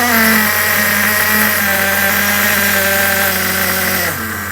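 Nitro RC car engine running loud at a steady high buzz as the throttle is eased off, then dropping sharply in pitch as it shuts off.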